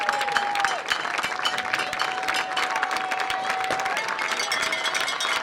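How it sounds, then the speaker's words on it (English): Crowd applause at a state semifinal soccer match against Waynesville, greeting substitutions, steady clapping throughout with a sustained referee-like whistle tone and background crowd noise. "Substitutions, and you hear the applause, those substitutions are from Waynesville"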